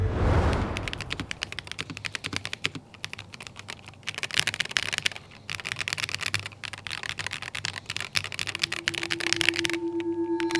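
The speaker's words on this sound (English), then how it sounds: "The sound of this keyboard as well is also super nice in my opinion." Typing on a Sony INZONE gaming keyboard: rapid, crisp key clicks in uneven bursts with brief pauses, close and clear, with a faint electronic tone near the end and no talking.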